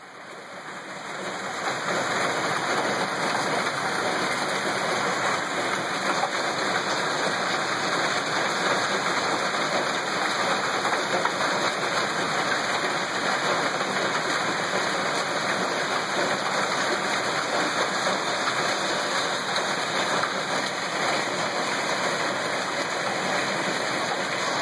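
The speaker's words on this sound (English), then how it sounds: "It's not hailing as much as it was." Hail and rain fall hard outdoors as a dense, steady hiss and patter, loud and continuous for the whole stretch after a brief quieter opening, with no talk.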